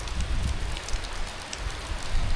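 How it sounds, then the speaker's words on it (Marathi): Rain falls steadily around Khandoba temple at Mulgaon, a close, continuous patter and hiss with a low rumble underneath and no one talking. "पाऊस मस्त पडता."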